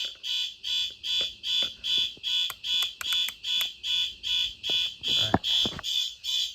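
A fire alarm sounding during a system test: loud pulsing electronic horn blasts repeat in a steady rhythm of roughly two per second, with brief voices and clatter underneath.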